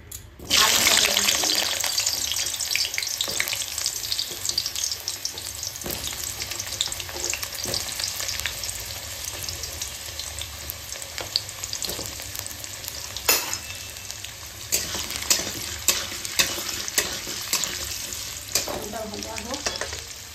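Potatoes frying in hot oil in a pan produce a loud, continuous crackling sizzle with scattered scraping clicks from stirring, steady throughout and unaccompanied by speech.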